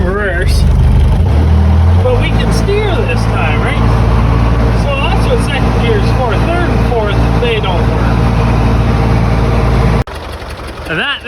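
Case 580 backhoe engine running while driving in reverse, a loud close diesel rumble with the engine note shifting early on, then cutting off abruptly near the end, with someone talking over it.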